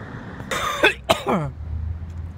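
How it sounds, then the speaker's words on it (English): A person coughs twice in quick succession, close and fairly loud, with a short gap between the bursts and quiet room noise before and after. "Cough break from making the mouth."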